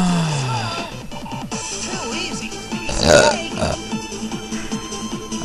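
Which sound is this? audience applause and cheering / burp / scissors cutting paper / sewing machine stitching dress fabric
burp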